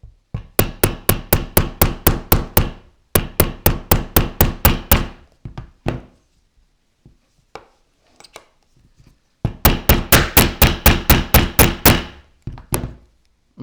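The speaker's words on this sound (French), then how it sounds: "je vais taper avec mon maillet ici sur la barre" A mallet striking a metal bar set inside a .38 S&W cartridge case, delivering rapid bursts of sharp, loud taps roughly a dozen at a time, separated by pauses with a few scattered quieter knocks.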